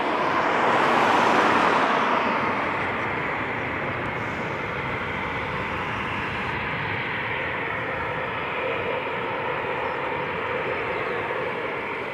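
Military aircraft flying over RAF Coningsby, a loud, steady jet roar that swells early on and then holds as a broad rumble for the rest of the pass, with no talk over it.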